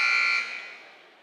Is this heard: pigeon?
no